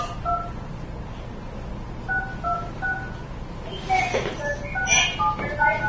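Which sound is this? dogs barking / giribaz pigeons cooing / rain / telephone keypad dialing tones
telephone keypad dialing tones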